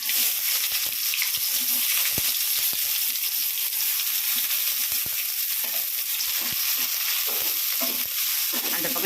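Onion sizzles loudly and steadily in hot oil with mustard seeds, lentils and garlic, with occasional light scrapes of stirring. The frying is close and continuous, with no talking.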